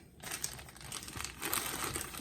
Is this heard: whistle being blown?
no